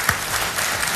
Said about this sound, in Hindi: ताली बढ़ गई पहले से